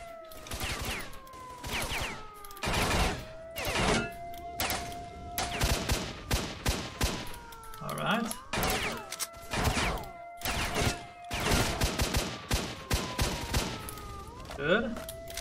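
Rapid bursts of gunfire in S.T.A.L.K.E.R. Shadow of Chernobyl, with repeated volleys and single shots spread across the whole stretch, some sharp and close, others trailing off, with faint tonal game sounds underneath.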